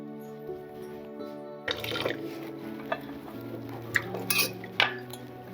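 Dishes, pots and plates being washed by hand at home, with clinking of utensils and splashing water in scattered knocks and clatters after a quiet tonal start, fairly close and moderate in level.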